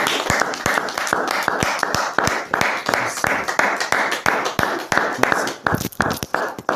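A church congregation claps together in a steady, lively rhythm to acclaim Jesus, sharp hand claps repeating fast and even for several seconds, filling the room without voices on top.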